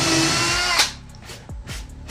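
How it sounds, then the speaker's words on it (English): A power drill whirs briefly and bites through two pieces of wood for a subwoofer box, followed by a few short, lower revving bursts as the motor slows. "when I use this drill bit, I can just"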